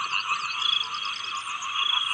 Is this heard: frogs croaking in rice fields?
yes